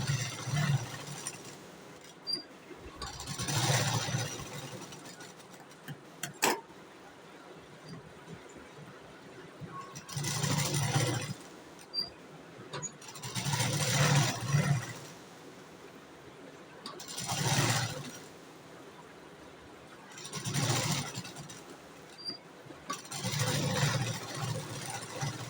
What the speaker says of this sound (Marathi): आता ज्या साईडला ओपन आहे त्या साईडला आपण शिलाई मारून घेणार आहोत.